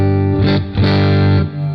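Electric guitar played through an IK Multimedia TONEX CS modeling a Fender Twin Reverb clean amp with a 2x12 cab, a few loud sustained chords with bright harmonic ringing, swelling and fading, no voices.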